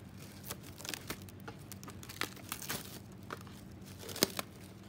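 Saran plastic wrap being pulled out and torn, a run of close crinkling and crackling snaps with sharp tearing bursts, no talking.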